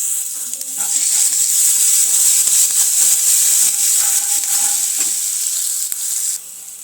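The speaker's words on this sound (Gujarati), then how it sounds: "તેલ આપણું ગરમ થઈ ગયું છે તો તેમાં વઘાણી ઉમેરી દઈશું થોડું જીરું આદું મરચાં લસણની પેસ્ટ" Cumin, ginger, chili and garlic paste hit hot oil in a pan with a loud, steady sizzle that holds for several seconds before easing slightly.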